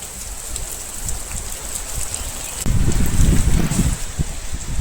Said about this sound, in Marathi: खूप मुसळधार पाऊस हा रात्रीपासून चालू झाला आहे आणि अजूनही थांबलेला नाही आहे